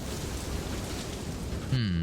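Steady, dense rain falls in the video game FAR: Lone Sails as a continuous broadband wash. A short tonal game sound enters near the end.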